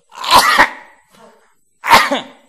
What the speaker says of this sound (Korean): 이럴 때 기침을 하래요